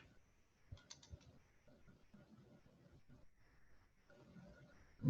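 Keys clatter on a computer keyboard in short bursts of quick, faint taps, with quieter pauses between, in a hushed room.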